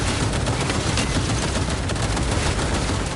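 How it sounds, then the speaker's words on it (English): Gunfire in the video game Cyberpunk 2077, a dense, loud, continuous barrage of shots with no talk over it. "Why are you shooting at us?"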